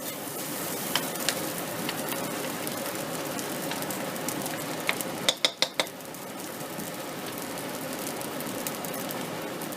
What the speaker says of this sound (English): when you start scraping it or start stirring it around, you have to make sure you break up the clumps